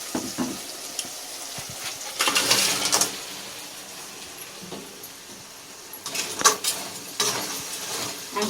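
Crabs clatter into a pot of mashed tomato paste, giving metallic clinks and knocks in two short bursts with quieter scraping between them, close and distinct.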